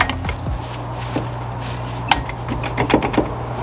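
A hand ratchet tightens a part while a wrecked Mazdaspeed 3 is rebuilt, clicking in a few short irregular bursts with small metallic taps over a low steady background hum.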